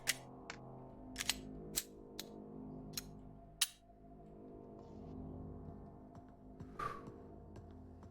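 Gunshots and mechanical clicks from the video game Receiver 2, a handful of sharp, fairly quiet cracks and metallic ticks spaced irregularly over a low hum, no talking.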